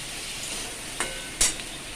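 Onions and capsicum frying in a pan for chilli soybean, with a steady broadband sizzle and two brief louder scrapes as the spoon stirs them.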